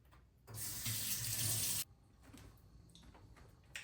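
A kitchen tap runs to fill a glass, giving a steady, close rush of water for just over a second before it stops, followed by faint quiet handling.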